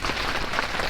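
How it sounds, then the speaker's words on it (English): Heavy rain pouring down in Panama, a dense, steady hiss of drops drumming on surfaces close by, continuous and loud without a break. "it's pouring with rain all day long"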